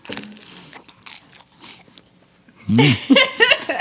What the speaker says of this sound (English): That's the crunch of a pizza. It's pretty crunchy.